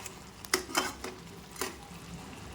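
Lemon chicken with lemon leaves and slit green chillies is stirred in a pan, giving a few scattered utensil scrapes and clinks over a low steady background.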